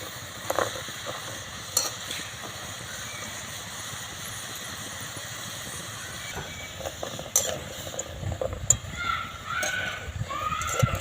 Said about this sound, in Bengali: ভাজা হয়ে গেছে এবার সবগুলো আমি তেল থেকে তুলে নেবো